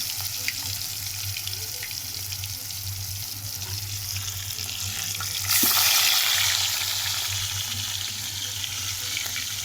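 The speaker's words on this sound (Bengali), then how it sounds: "ভাজা বসাচ্ছি।" A 1.5 kg fish fries in hot oil in a pan, giving a steady close hiss and sizzle over a low hum, which swells louder about halfway through and then settles.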